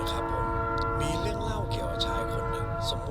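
A train passes with a steady, loud rumble of wheels and a long sustained horn tone throughout. A voice speaks over the noise.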